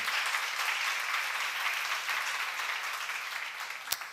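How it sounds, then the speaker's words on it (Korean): Steady applause from a large crowd at a church seminar fills the space, an even wash of clapping ending with a single sharp knock. "여러분 중에도 그런 자가 나올 걸 믿으시면 박수를 하나 돌리세요."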